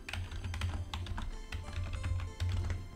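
Rapid, light clicks of fingers typing a file name on a computer keyboard, keystrokes coming in quick bursts with short pauses, close and fairly quiet.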